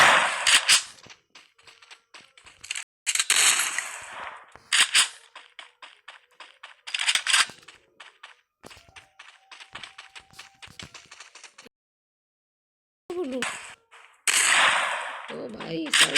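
Shotgun blasts in a mobile shooting game ring out in quick separate bursts between rapid screen taps, with short silent gaps and other game sounds near the end.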